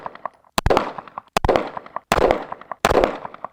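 A handgun fired during a timed shooting run: four loud, sharp shots spaced under a second apart, each ringing out in a short echoing tail, with faint clicks just before the first.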